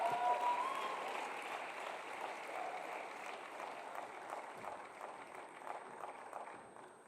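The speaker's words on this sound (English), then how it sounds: "Please clap and join me in welcoming Amadou Gallo Fall." An audience applauds a speaker being welcomed to the stage at a youth conference in Kigali, with steady, even clapping that holds at a moderate level and slowly fades toward the end.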